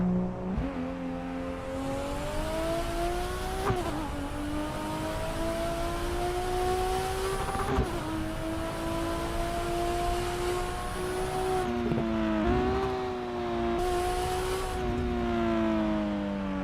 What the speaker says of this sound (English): The exhaust note sounds a little bit like a Supra,